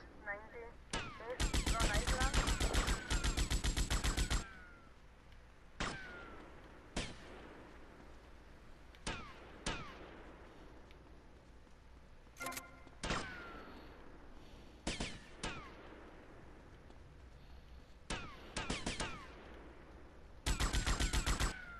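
Police gunfire in the game GTA Vice City, sustained machine-gun bursts near the start and end with single sharp shots scattered between, with a voice talking faintly in places.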